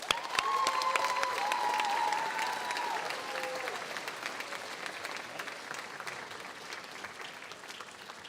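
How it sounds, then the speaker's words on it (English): An audience at a closing ceremony at Mississippi State University breaks into sustained applause, a dense patter of clapping that slowly fades over several seconds, with faint whistles or cheers near the start. "So please give me a round of applause for them."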